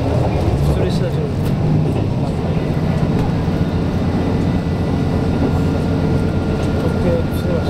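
A local train rumbles past with a steady, heavy low roar and rattling, while people talk over the noise.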